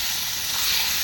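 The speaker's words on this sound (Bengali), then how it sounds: "এবার আমরা মাংসটা দিয়ে দেবো।" Mutton hitting hot spiced oil in a curry pan, giving a dense, steady sizzling hiss at close range with no talking.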